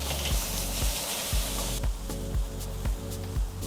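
Steak flipped on a grill hisses with a steady, loud sizzle, sharpened by a burst of brighter spitting midway and a few soft thuds of the meat being turned.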